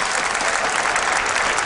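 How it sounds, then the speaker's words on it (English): Audience applause fills the hall at a StarCraft WCS Season 2 Finals tournament match, a dense, steady wash of many clapping hands held at an even level across the whole moment, close and enveloping, with no voices standing out. "So give him another big round of applause"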